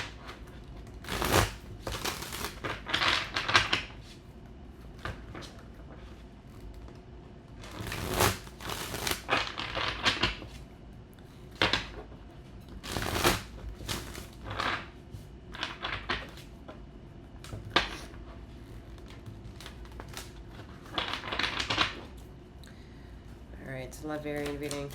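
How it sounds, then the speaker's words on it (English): Tarot cards shuffled in repeated bursts of riffling and flicking, each flurry lasting a second or two with pauses between, close and crisp amid low room noise. "You don't like shuffling"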